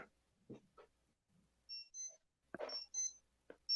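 A wristwatch timer alarm goes off during a watch-collection chat, giving short high electronic beeps in separated bursts amid low handling noises and brief knocks, fairly faint and close.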